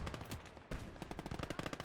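Enemy machine-gun fire in Call to Arms: Gates of Hell on the Eastern Front, a dense burst of rapid shots, a brief pause, then a quick rhythmic string of sharp cracks, loud and close.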